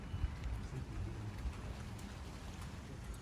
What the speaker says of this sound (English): I'm sheltered a bit at least from this miserable rain.